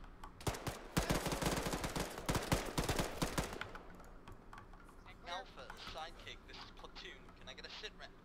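Rapid automatic gunfire in ARMA 3, a loud burst of close, densely packed shots over the first few seconds that gives way to scattered distant fire and a murmur of voices.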